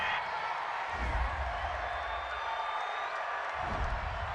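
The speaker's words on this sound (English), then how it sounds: "This home crowd, they're happy with that call." A home football crowd at a Pittsburgh Steelers versus Cincinnati Bengals NFL game roars in approval of a third-down penalty flag, a steady distant wash of cheering and noise with swells throughout.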